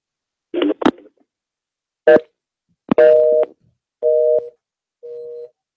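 Telephone tones on a radio call-in line: a few short clicks and beeps followed by steady, evenly spaced tone bursts that fade slightly in loudness, loud and close with no voices.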